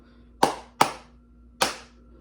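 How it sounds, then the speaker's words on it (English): Three sharp hand claps ring out in an uneven pattern, two close together, then a pause before the third, each crisp and close with a short decay in a quiet room. "a fun way to practice patterns is by doing clapping patterns"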